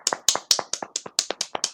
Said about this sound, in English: Big round of applause for ourselves